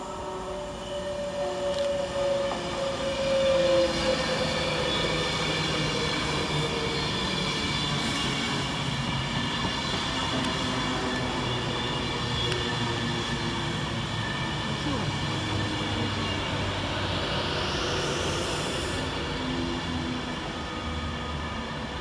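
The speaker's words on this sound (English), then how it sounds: "Next arriving into the station is 390-136, working the 1513 Avanti West Coast service from Manchester Piccadilly to London" An Avanti West Coast Class 390 electric train pulls into Wilmslow station with a continuous loud rumble and hum, wheels squealing, rolling steadily alongside as it arrives.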